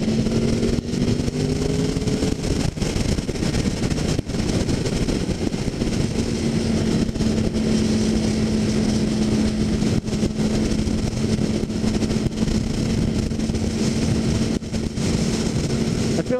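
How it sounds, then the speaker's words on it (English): An inline-four liter-class sport motorcycle engine runs close by at a show, holding a steady drone with a sustained tone and a few short shifts in pitch, over busy background noise. "I love the sound of the inline 4, but actually being on this bike, I think it sounds fantastic."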